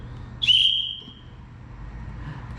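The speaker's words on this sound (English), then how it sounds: "You can use a dog whistle also." A single sharp, high-pitched dog whistle blast, brief and close, fading into quiet room noise.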